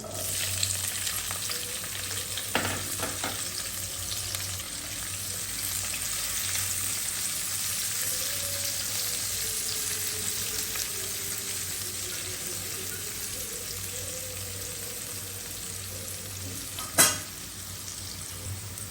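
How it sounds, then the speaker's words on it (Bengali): Oil sizzles and crackles steadily as onion and green chili fry in a pan, a constant hiss with occasional stirring clatter and one sharp clink near the end. "পেঁয়াজটা হালকা ভাজা হয়ে গেছে"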